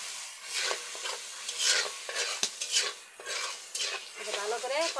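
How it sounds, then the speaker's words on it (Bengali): Spice paste of turmeric, chili powder, ginger-garlic paste and salt stirred and fried in oil in a pan, with repeated scraping strokes of a utensil over a soft sizzle, close and rhythmic, no talk. "মশলাটা ভালো করে কষাই নিলাম"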